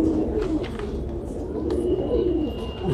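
Rangeen Sherazi and Larty Hue pigeons cooing in soft, low, rolling calls, several birds close by, continuous over a steady background murmur.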